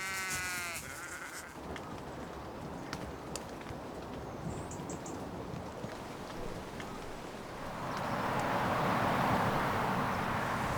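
Sheep bleat outdoors in the countryside, a loud wavering bleat at the start followed by quieter distant calls, with wind and rustling rising toward the end.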